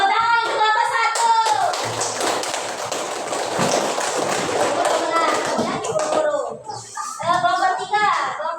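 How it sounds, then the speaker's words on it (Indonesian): Primary school pupils in a classroom clap for a group, a dense burst of hand claps and taps lasting several seconds, with children's voices and a teacher speaking at the start and end. "Tepuk tangan untuk kelompok 1"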